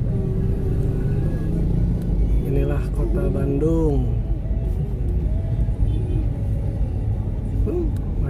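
Stalled traffic at a red light in Cicaheum, Bandung: a low, continuous rumble of idling car and motorbike engines nearby, with a passing horn or two and people talking over it.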